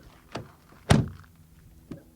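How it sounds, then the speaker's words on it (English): A Peugeot 2008 car door swings shut with one loud, solid thunk near the middle. Lighter knocks come just before and after it, in a quiet space. "First of all, door closing sound."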